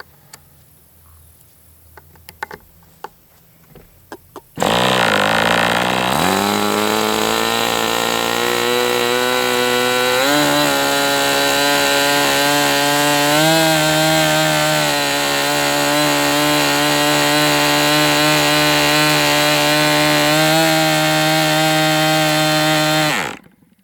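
An MDS 68 FS Pro model glow engine runs during break-in, a loud steady buzzing drone that starts abruptly after a few seconds of faint handling noises, holds its pitch with slight wavers, then cuts out sharply at the end.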